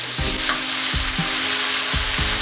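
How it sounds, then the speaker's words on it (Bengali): Ginger and spices sizzle loudly in hot oil in a pan for a Bengali chicken curry, a steady frying hiss broken by several rhythmic scrapes and stirs of a spatula. "তো বন্ধুরা এবার আমরা এতে দিচ্ছি আদা"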